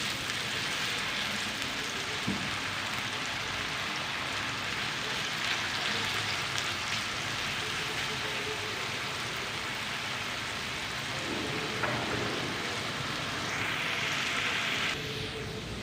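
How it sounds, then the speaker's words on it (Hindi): Potatoes fry in a pan with a steady, dense sizzle like light rain, close and continuous throughout, with an occasional faint clink of stirring. "तीन से 4 मिनट के लिए आलूओं को पका लेते हैं।"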